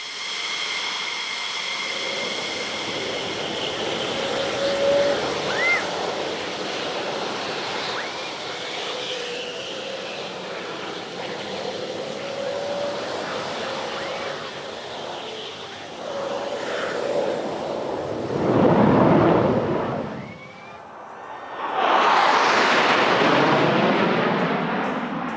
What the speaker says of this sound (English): take a look at the final act of the show. It's the 6 F-16s of the Thunderbirds